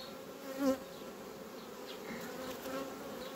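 Honeybees drone around an open hive in a steady, close buzz, with a few individual bees flying past a little louder.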